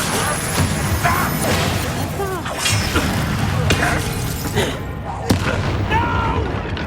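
Confringo fire spells from the Hogwarts Legacy video game burst in heavy booming blasts with crashing debris, dense and loud, layered over game effects and raised voices.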